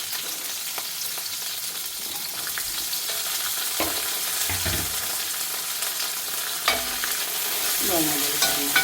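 Garlic and onion fry in a pan for vegetable kurma, with a constant crackling sizzle and occasional scraping strokes of a spoon against the pan close by, slightly louder near the end; no speech.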